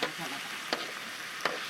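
Fish sizzles steadily in a hot pan over a camp cooking setup in the forest, with a constant hiss and a few soft stirring scrapes, close and fairly quiet.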